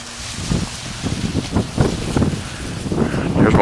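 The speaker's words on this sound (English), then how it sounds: "The wind is just a whipping today." Strong wind whips steadily outdoors on a cold day near a garden, a continuous blustery roar buffeting the microphone with gusts swelling toward the end.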